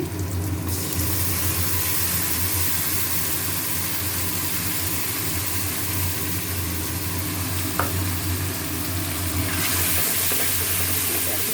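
Spices with onion, ginger, garlic, cumin, salt and turmeric frying in oil make a steady, close sizzle that runs continuously, with a faint low hum beneath.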